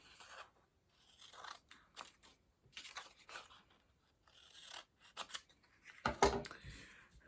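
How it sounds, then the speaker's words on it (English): Scissors snip through paper, cutting folded triangles apart in a series of quiet, close crisp cuts with pauses between, ending with a louder rustling snip. "Carefully cut those apart."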